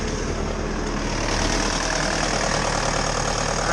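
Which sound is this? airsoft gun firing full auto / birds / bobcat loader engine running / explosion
bobcat loader engine running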